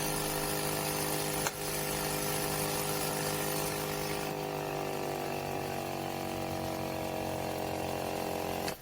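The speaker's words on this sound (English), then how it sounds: "we turned on the compressor for about 5 seconds" Air compressor running continuously and loudly up close while forcing coolant out of a car engine, a dense steady mechanical drone with a slowly shifting pitch that cuts off at the end.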